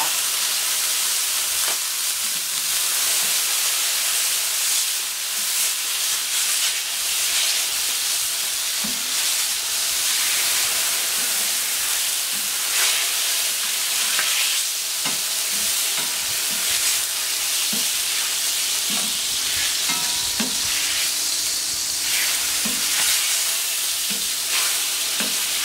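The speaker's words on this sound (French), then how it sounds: "On va déglacer la plancha." Foie gras with figs sizzles and spits on a hot plancha as it is deglazed, a steady loud frying hiss with crackles and bursts of steam running throughout with no talk.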